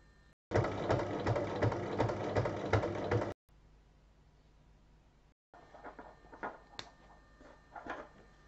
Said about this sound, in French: on va refermer l'ouverture qui est sur le devant en faisant une surpiqûre tout autour